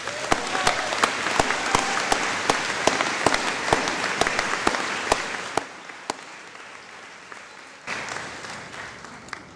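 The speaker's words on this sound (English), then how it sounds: "So let's give all those people now a round of applause as well." A large commencement ceremony audience claps in sustained, dense applause that holds steady for several seconds before thinning and tapering off, with a brief renewed swell near the end.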